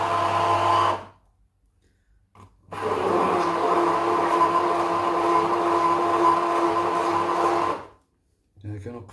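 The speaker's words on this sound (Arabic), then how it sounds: "نطحن هاد الشيء هذا" An electric blender grinds pineapple for juice in two loud, steady whirring runs, starting and stopping abruptly with a pause between, close to the listener.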